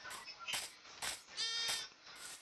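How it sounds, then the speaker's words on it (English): A baby sheep in a video game bleats in several short, evenly spaced calls, each a bright wavering cry heard close and clear with no talking over them. "Oh, it's a baby sheep."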